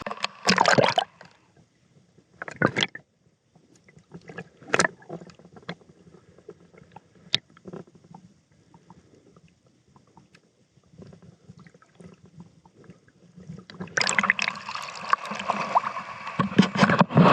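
Muffled underwater wash from a camera held beneath the surface at Alona Beach, Bohol, with loud splashy bursts at the start and around 2.7 seconds, a dull low rumble through the middle, and churning water noise returning strongly at the end.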